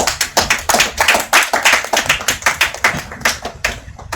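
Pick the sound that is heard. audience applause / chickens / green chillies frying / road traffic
audience applause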